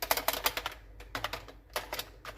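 Quick bursts of typing on a computer keyboard during data entry into an Excel invoice, with clustered key clicks, brief pauses between runs, close and fairly quiet, no talking.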